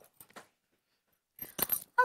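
Household keys jangle in short metallic bursts, a brief rattle at first, then a pause, followed by a louder cluster of clinks near the end, close and clear with no talking.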